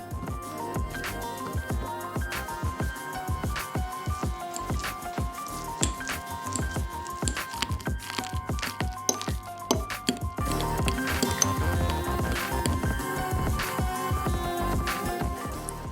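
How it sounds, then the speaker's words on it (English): Overripe bananas mashed with a fork, giving soft, wet squishing and squelching strokes in a steady repeated rhythm, close up, with occasional light clinks of the fork against the bowl and no talking. "Mash them together with a fork until creamy."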